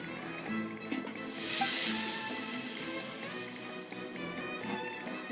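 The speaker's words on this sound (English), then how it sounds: "You said the mushrooms needed to be cooked at high heat, right? I can do that for you right now." Mushrooms sizzling at high heat in a cast iron pan in Genshin Impact, a steady frying hiss that swells early and then holds, alone without talk.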